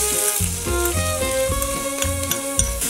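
Chopped onion sizzles steadily in a pan of melted butter and oil, a continuous close frying hiss with music playing over it.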